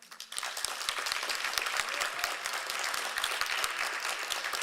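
A crowd at a Governors State graduation ceremony breaks into sustained, loud applause, a thick, even roar of many hands clapping that continues throughout without pause.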